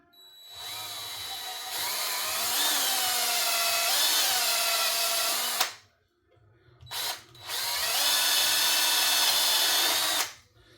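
A power drill bores into an Arrma Kraton 6S shock tower with a loud, close, sustained whine, pitch wavering under load, then stops, gives a brief blip and runs again for several seconds.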